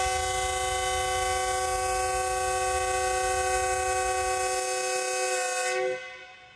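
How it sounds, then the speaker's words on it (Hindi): A loud, sustained train departure horn blares at a foggy Lahore railway station as one long continuous tone over a low engine rumble, then cuts off and fades near the end. "डिपार्चर हॉर्न सुन लिया आपने"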